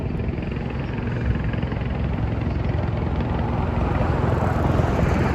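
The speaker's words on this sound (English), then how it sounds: "Oh, and it looks like we have a helicopter taking off right now." A helicopter lifts off over New York City near the West Side Highway, its steady rotor and engine drone filling the air loud and continuous from a moderate distance, without any voices over it.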